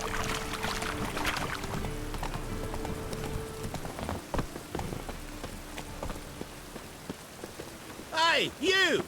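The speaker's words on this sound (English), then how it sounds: "And it's raining again." Rain in Witcher 3, a steady patter and hiss on surfaces with horse hooves clip-clopping through it, and voices talking near the end.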